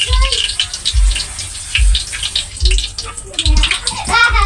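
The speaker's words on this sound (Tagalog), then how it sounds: "hihugasan pa ang carrots" Running water from a tap splashes and gushes over carrots being washed, a close, continuous flow with irregular splashes, while a person talks over it.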